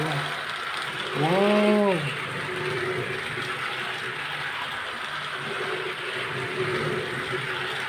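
A Thomas and Friends toy train runs with a steady whirring, ratcheting mechanical buzz of small gears, close and continuous, while a voice briefly exclaims early on.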